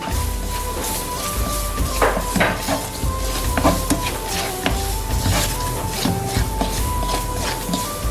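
Large cubed onion fried in a pan with garlic and ginger powder: a steady broadband sizzle with a spoon scraping and tapping the pan, close and continuous, with no talk.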